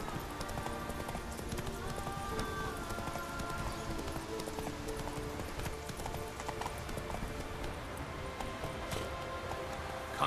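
A horse galloping under a rider in The Witcher 3: Wild Hunt, with steady, continuous hoofbeats and clip-clop over constant in-game ambience throughout.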